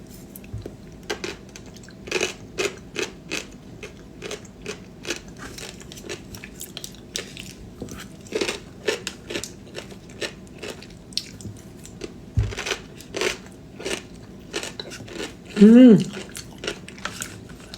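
Crunchy food chewed close by, a steady run of crisp, short bites and crunches at an irregular rhythm, with a brief voiced sound near the end.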